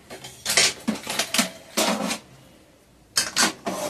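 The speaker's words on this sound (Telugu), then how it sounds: "మనం పుట్నాలు గిన్నెలో పోసుకుందాము." Roasted gram (putnalu) tipped from a kadai into a bowl in a home kitchen gives several short, dry rattling rushes of tumbling grains with metallic clinks, separated by brief quiet pauses.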